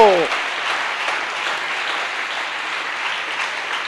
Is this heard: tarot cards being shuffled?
no